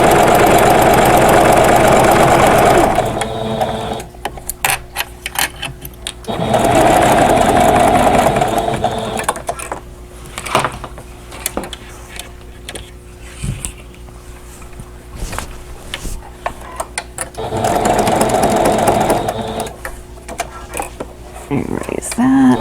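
A sewing machine stitching and backstitching a quilted pillow cover with an envelope back, running in several loud, steady bursts of a few seconds each, separated by quieter handling sounds.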